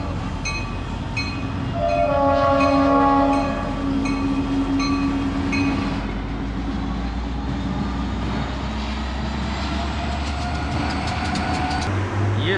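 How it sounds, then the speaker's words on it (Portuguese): Train on the line toward Panama City rolls past with continuous rumbling and clatter, its horn blaring loudly in sustained tones for a few seconds early on before the rolling noise carries on alone. "Esse é o trem que atravessa daqui para Panamá City."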